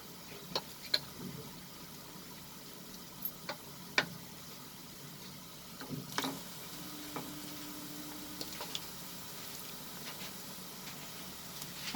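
Chicken pakora fries in hot oil, a soft continuous sizzle with scattered crackles and pops over a low hiss.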